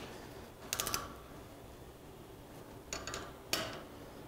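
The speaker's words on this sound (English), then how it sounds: "these rods get rod bolts get torqued to 55 foot-pounds per ARP spec" A ratchet wrench works down the connecting rod bolts on a Cadillac 365 V8 engine, giving short bursts of quick clicking separated by pauses, close and fairly faint.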